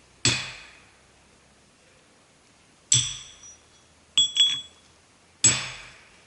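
A steel hot cut hardie is fitted into an anvil's hardie hole, producing four sharp metallic clanks with bright ringing tails, separated by silent pauses, the third a quick double knock.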